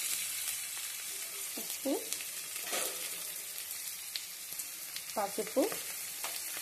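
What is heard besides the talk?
onions, green chilies and curry leaves sizzling while being stirred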